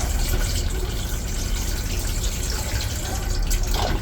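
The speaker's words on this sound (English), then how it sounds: "Add water." Water is poured into a hydroponic grow kit holding growing medium, a steady close rushing splash that runs unbroken and fairly loud throughout.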